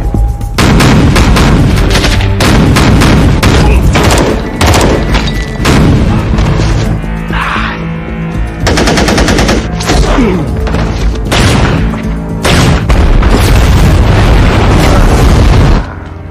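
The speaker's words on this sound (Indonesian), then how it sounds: "Joe terkena ledakan yang sangat parah, bahkan dia telah terkapar" Explosions and heavy gunfire rage through a film battle scene: loud, dense booms and bursts of shots follow one another almost without pause for the whole stretch, with no voices over them.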